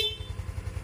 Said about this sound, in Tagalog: Ang kanyang busina ay napakaganda rin